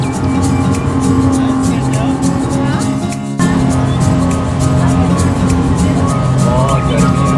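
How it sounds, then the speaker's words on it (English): A speedboat carrying passengers to Marina Island in the Maldives. The motor roars loud and steady, with a brief dip midway, and voices are heard over it. "This is our speedboat taking us to the Marina Island."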